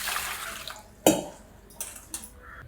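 Basmati rice being washed in water in a bowl, heard as a sharp clatter and swish of grains and water followed by a couple of softer sloshes and clinks, close and quiet between.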